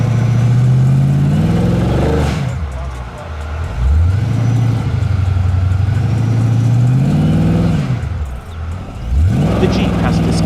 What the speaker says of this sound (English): The Jeep has to skid a lot to reach the first stopping point.